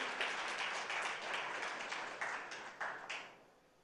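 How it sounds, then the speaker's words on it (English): An audience applauds to welcome a professor guest onto a talk show stage, a dense wash of clapping that holds steady, then thins to a few last claps and fades out. "I think he needs a loud round of applause"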